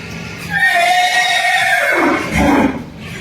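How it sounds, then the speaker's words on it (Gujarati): A horse neighs loudly and close, one long whinny calling to a mare, with a falling, wavering pitch that dips and rises again before fading; no one speaks. "ઘોડીને જ બોલાવતી એમ તો, એમ ઘોડીને જ બોલાવતી"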